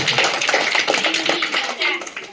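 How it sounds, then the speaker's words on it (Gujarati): A crowd of children and adults claps at a government primary school quiz competition, a dense burst of hand claps that carries on under a talking voice. "તાળી પાડજો."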